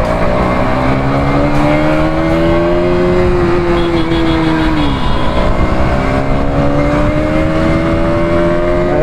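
A KTM Duke 200 motorcycle engine revs loud and close, the pitch climbing, dropping sharply around the middle, then rising again in a continuous buzzing roar.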